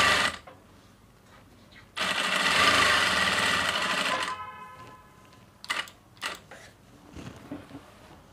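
A sewing machine stitches the side pockets of a pair of pants, running in one loud burst of about two seconds, then slowing to a softer whir with brief clicks and handling sounds.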